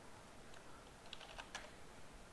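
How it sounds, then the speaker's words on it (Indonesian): Faint, sparse keystrokes on a computer keyboard come as a handful of light clicks in a quiet room, with no voices around them. "saya ketik aja lah"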